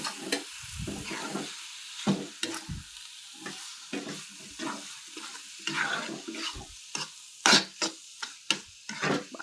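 Chicken liver sizzling in a pan with turmeric while a spoon stirs it, giving repeated close scraping strokes over a steady frying hiss, with louder clatters toward the end.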